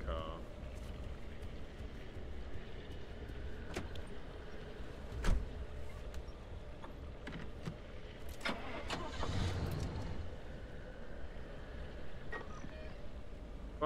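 A car engine starts up in the video game Pacific Drive, cranking and catching amid a busy mix of mechanical clatter and rumble, with several sharp knocks partway through.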